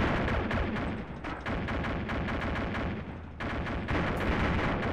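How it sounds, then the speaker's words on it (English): Arma 2 combat gunfire, dense rapid volleys of loud cracking shots in rhythmic bursts, with heavy booming reports layered throughout and no voices. "They're shooting at it."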